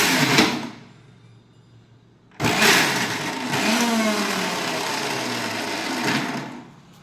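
A kitchen mixer grinder whirs loudly as it grinds onion, green chili, tomato, ginger and garlic. A short burst is followed by a pause, then a longer sustained run of several seconds that winds down at the end.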